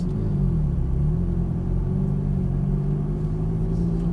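A car engine rumbles steadily with a low, throaty drone that rises slightly as the vehicle pulls away, heard from close inside or beside the car.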